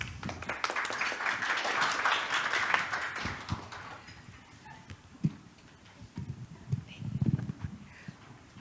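An audience at a technology conference claps warmly for a speaker, a dense burst of applause that fades after a few seconds into scattered claps and room noise.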